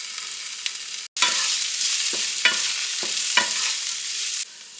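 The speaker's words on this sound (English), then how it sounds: "Caramelizing your onions is probably going to be the longest process of this recipe" Onions with a little salt caramelizing in a pan, giving a loud, continuous hissing sizzle close by, punctuated by several scraping stirs of a utensil, and the sizzle cuts off briefly near the start.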